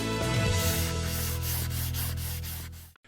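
A sanding block is rubbed by hand over wood in steady, close, continuous gritty strokes that fade out over about three seconds.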